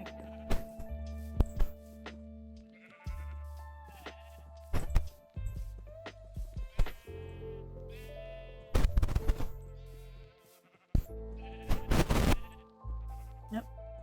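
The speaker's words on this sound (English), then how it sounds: "That's a lot of sheep." Repeated bleats from a flock of sheep in Minecraft come in clusters over a steady game backdrop, some loud and close, with people chatting throughout.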